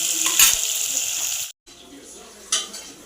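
Onions frying in a pan give a bright sizzle with a spatula clink, cutting out briefly midway before a fainter hiss returns with a sudden crackle.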